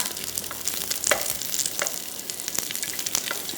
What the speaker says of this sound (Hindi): इसमें आ गए प्याज, और इसको हमने थोड़ा सा इतना फ्राई करेंगे